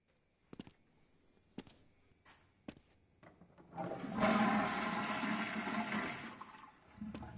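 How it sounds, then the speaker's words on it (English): A newly installed toilet in a store under renovation, with a few sharp knocks and clicks before a loud close rushing flush that swells and runs for several seconds, then tapers off into a trickle. "these sewage pipes were also installed, which means that this toilet here actually works now."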